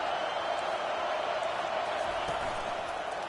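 Steady roar of a raucous stadium crowd at an Auburn vs Georgia college football game, a dense continuous wash of cheering and noise with no breaks, loud and evenly sustained.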